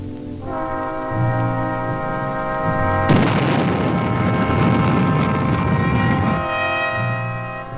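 Missile launch from a submarine or cruiser: a steady tonal drone gives way at about three seconds to a loud, broad roaring rush that holds for several seconds before dropping back to the hum, with no voices.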